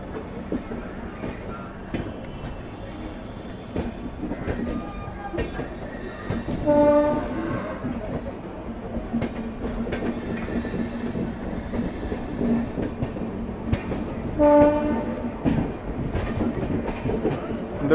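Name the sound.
Kanpur Shatabdi express train passing with horn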